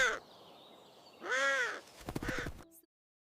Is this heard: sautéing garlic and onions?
no